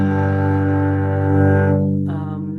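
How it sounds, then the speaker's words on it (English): Bowed cello sustains a rich, steady tone for about two seconds, swelling slightly midway before the bow eases and the note fades, played alone and close with no talking. "And then to translate that story into something on cello"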